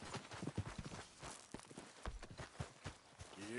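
Horse hooves clip-clopping at a steady trot or gallop in Red Dead Redemption 2, a repeating rhythmic pattern of close thuds with some brief talk mixed in.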